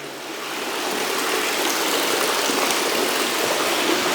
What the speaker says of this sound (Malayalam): ഈ വെള്ളം ഇങ്ങനെ വീണുകൊണ്ടിരിക്കുന്ന ശബ്ദം കേട്ടോണ്ടിരിക്കാൻ തന്നെ ഭയങ്കര രസമാണ്